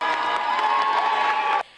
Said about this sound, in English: Becker students cheer